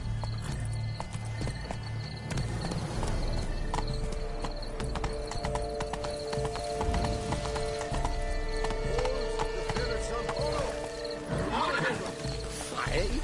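Horse hooves clip-clop steadily on the ground in The Witcher 3, with a whinny and game ambience around them and a voice talking over the riding.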